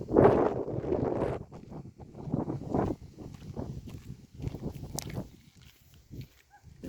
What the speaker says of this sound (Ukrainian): Кожен день дує вітер.